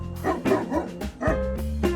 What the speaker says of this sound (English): Big ass fucking dog.